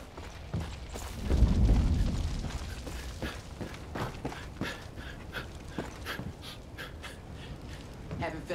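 A dog in the video game Far Cry 5 pants and whimpers close by, mixed with game sounds and a low rumble, while a voice speaks.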